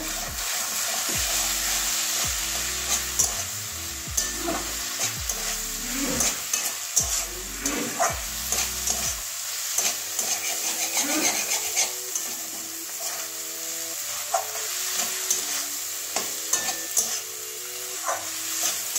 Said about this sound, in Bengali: এবারে সব কিছু মিশিয়ে দেবো একসঙ্গে।